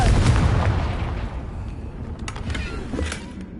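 Confringo fire spell explosions in the Hogwarts Legacy video game on PS4, a dense rumbling blast at the start that fades into a crackling, booming tail with a couple of smaller bursts later, loud and continuous throughout.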